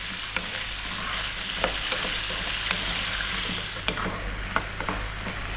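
Potatoes frying for jeera aloo, tossed around in a hot pan: a dense, even sizzle with scattered light taps and scrapes, close and loud, no one speaking.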